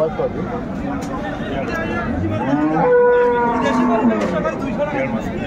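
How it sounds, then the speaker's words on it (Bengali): Cows and calves moo with drawn-out, close calls at the Ambari cattle market in Dinajpur, over a constant murmur of people talking nearby. "বেশ সুন্দর গাভী বাচ্চা আমরা দেখছিলাম।"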